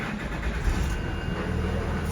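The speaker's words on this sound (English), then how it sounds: "Now I'm going to start the bus." A school bus with air brakes starts up, its engine turning over and settling into a steady, close, moderately loud rumble that stays continuous throughout with no talking.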